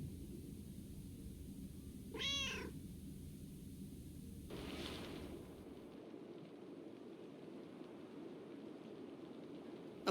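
A cat meows once, clear and close in a video game scene, followed by a faint second call, over a steady low ambient hum with no talking.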